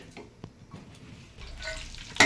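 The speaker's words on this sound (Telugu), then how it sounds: "నూనె వేడి కాగానే పచ్చిమిరపకాయలు ఎల్లిపాయలు కరివేపాకు వేసి బాగా ఫ్రై చేసుకోవాలి" Green chilies, garlic and curry leaves drop into hot oil for a tempering, giving soft sizzling and a few stirring clatters that end in a brief sharper burst of frying.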